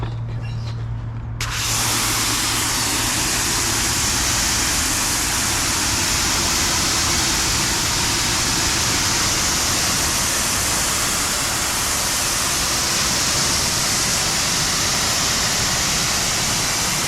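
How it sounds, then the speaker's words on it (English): A spray gun rinses soapy water off a car coated with Jade Obsidian Graphene ceramic coating, producing a steady, loud broadband hiss that holds without a break for many seconds after a brief quieter start. "Let me grab a gun and let's rinse this off."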